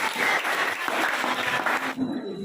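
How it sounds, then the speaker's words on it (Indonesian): A classroom of students applauds, a dense, lively burst of many hands clapping close by that lasts about two seconds and then stops abruptly. "Oke, beri tepuk tangan."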